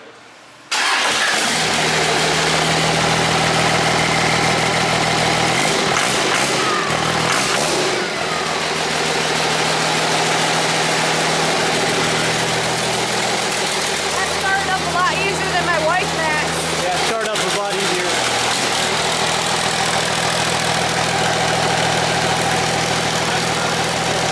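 A freshly built Cummins diesel engine in a show truck cranks over and fires up, then settles into a steady, loud idle with occasional revs while people talk nearby.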